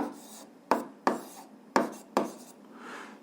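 Chalk on a classroom board during a physics lesson, four sharp taps, each followed by a short scratchy stroke of writing, close and clear with no voices.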